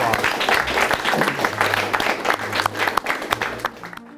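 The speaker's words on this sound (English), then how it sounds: "Let's give them all a round of applause." An arena crowd at a FIRST robotics season kickoff event breaks into loud, sustained applause, dense clapping mixed with cheering that rolls on for about four seconds before dropping off abruptly.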